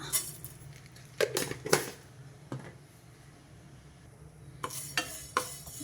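Coriander seeds dropped into a hot pan for a drumstick masala gravy, giving a few clinking, rattling bursts against the metal with quiet gaps between, close and fairly faint.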